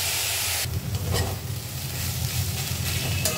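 Red amaranth (lal note) greens fry in a pan with shrimp, giving a steady close hiss and sizzle with soft stirring scrapes throughout.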